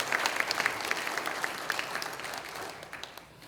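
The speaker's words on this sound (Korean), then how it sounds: "여러분 큰 박수로 목사님께 격려와 감사의 말씀 드리도록" A congregation at a church revival service in Atlanta applauds together: dense, steady clapping of many hands, moderately loud, gradually thinning and fading toward the end with no talking over it.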